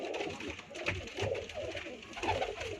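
A French pigeon cooing in soft repeated low throaty calls, fairly close, with a faint voice murmuring in the background.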